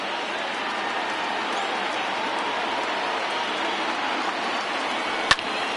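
Sustained roar of a stadium crowd of over 39,000 on its feet at a Mets–Cubs baseball game, a steady, even wash of cheering with one sharp crack near the end.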